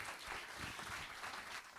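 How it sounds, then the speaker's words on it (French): Audience applause at an award ceremony for the 2021 Septuors de l'Ariège, a dense steady patter of clapping from a hall crowd lasting the whole moment. "il vous revient avec des applaudissements bien mérités."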